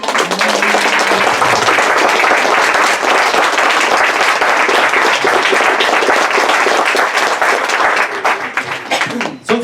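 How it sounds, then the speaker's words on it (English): Audience at a community talk applauds a group of volunteer women, a loud, close, continuous burst of clapping that runs nearly ten seconds before tapering at the end, with a brief voice near the start. "we can give them an applause"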